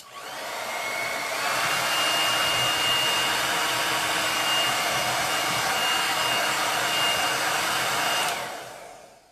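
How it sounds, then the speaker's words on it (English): A blow dryer runs loudly and steadily with a constant whirring rush and a faint high whine, then cuts off abruptly. "I am just going to take my blow dryer here"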